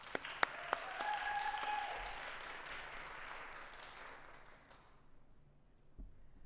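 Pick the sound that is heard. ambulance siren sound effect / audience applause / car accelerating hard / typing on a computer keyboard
audience applause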